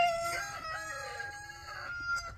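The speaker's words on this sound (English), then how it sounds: "I hate roosters." A rooster crows a long, drawn-out call, moderately near, with a quieter cluck at the end.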